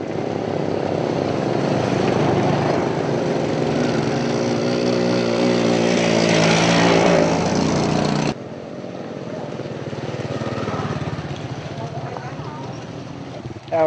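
A motorbike carries riders along a trekking trail near Sapa, Vietnam, its engine droning loud and steady with wind rush. The drone drops abruptly partway through and continues more quietly.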